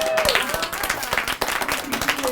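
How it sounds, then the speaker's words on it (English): Audience at a Magic Castle parlor magic show breaks into applause, a dense wash of many hands clapping close by, with a voice talking over it. "That's your first applause,"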